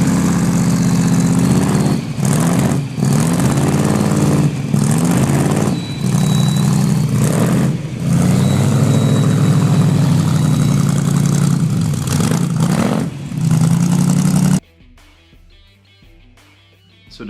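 A Chevrolet 348 big-block V8 rumbling loudly and close, with repeated revs rising and falling over a deep idle, then cutting abruptly to near silence at the end.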